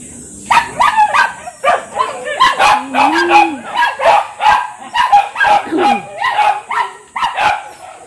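Many dogs barking and yipping in rapid bursts, several close by, with an occasional whimper mixed in; the barking keeps going throughout.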